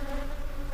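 An aggressive Africanized bee colony gives off a steady, dense buzzing hum that holds at an even level with no breaks, close and continuous and without any voices.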